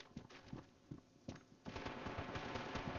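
Gunfire in the mobile shooter Standoff 2: a few separate shots come first, then a rapid automatic burst. The sound is fairly quiet and no one speaks.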